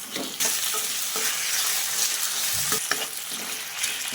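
Thin fried potato slices are stirred in a hot pan, a steady close sizzle and crackle of oil with soft scraping strokes as they are turned.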